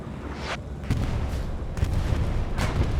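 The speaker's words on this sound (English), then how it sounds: "Bombing run comes in." Bombing run explosions in the WWII shooter Hell Let Loose, a series of deep booms and blasts rolling in one after another over a constant battlefield rumble.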